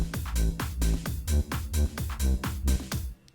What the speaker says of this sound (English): I selected a thick bass, plus I added some reverb to give it more punch and ambience